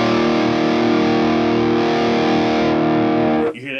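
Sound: electric guitar through overdrive pedal with pedal gain

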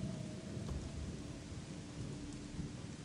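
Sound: rain and thunder in the video game Chronicles of Myrtana: Archolos

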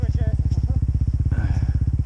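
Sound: motorcycle throttle accidentally revved

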